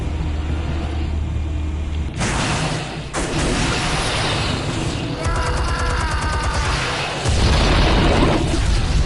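Armed explosives detonating in a Batman video game: a heavy booming blast with a rumbling, crackling tail, followed by further debris bursts and a second loud surge of noise.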